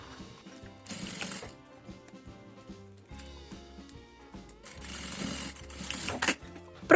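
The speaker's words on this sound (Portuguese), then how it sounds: "E aí é só passar uma costura reta aqui." A sewing machine runs a straight seam across the corners of a clear glitter pouch, whirring in two long close bursts with a steady mechanical hum between them; no one speaks.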